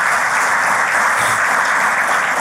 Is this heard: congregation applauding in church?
yes